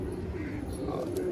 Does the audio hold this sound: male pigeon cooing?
yes